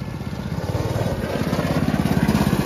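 A go-kart engine runs on a track in Purulia, a steady buzzing putter with fast regular firing pulses, fairly close and growing slightly louder, with no talking.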